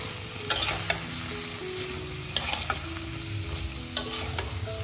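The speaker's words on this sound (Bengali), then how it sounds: "শাকের জন্য আলু ভেজে নেব, মানে বাঁধাকপি শাকের জন্য আলু আর সামনে একটু ভেজে নেব।" Potatoes fry in oil with salt and turmeric for a cabbage greens dish, giving a steady close sizzle broken by a few sharp scrapes and clinks of stirring.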